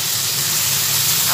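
Boiled Malabar spinach hits a hot pan of spiced oil and throws up a loud, close, continuous hiss and sizzle that stays steady and broadband throughout, with no voices over it.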